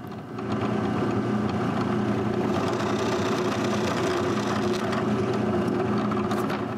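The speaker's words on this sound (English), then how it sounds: "When I find it, I drill the eye." Small drill boring the eye hole in a wooden intarsia piece, a steady motor whine running continuously for several seconds at close range.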